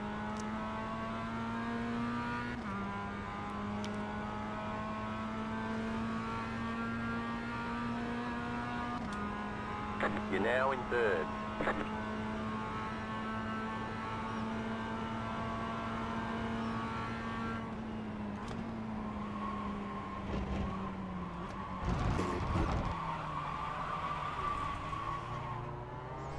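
Race cars running in iRacing, a steady droning engine note holding pitch with brief shifts, tyre squeals breaking through twice, and other cars audible close by; a short voice prompt speaks partway through.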